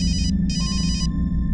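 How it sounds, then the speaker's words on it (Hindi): An electronic phone ringtone trills in two short bursts separated by a brief pause, clear and fairly close, with a low hum underneath. "फोन की घंटी बजती थी"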